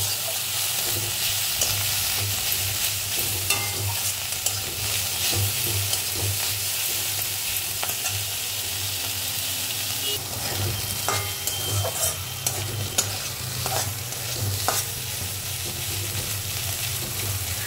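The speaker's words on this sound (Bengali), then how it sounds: "সব কিছু দিয়ে ভালো রকম করে এটাকে ভাজা ভাজা করে নিতে হবে।" Prawn heads frying in a pan with turmeric, slit green chili, onion and garlic, a steady close sizzle with stirring scrapes that grow busier toward the end, no talk.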